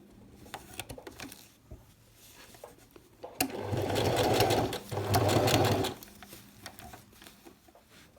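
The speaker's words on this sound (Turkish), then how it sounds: "Ve dikişime başlıyorum." Sewing machine stitching a shirt cuff, running in two steady whirring bursts of a few seconds each with a brief pause between, close and clear over quiet room noise.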